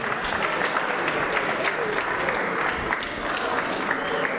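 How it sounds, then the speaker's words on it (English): A crowd at a boxing event breaks into a loud, sustained round of applause after a bout, dense clapping and cheering filling the whole stretch without letting up. "Let's give them a big round of applause."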